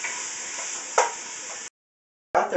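Leftover lasagna meat sizzles in a pan as it browns, a steady close hiss with one brief scrape, then a sudden cut to silence before the sizzle returns.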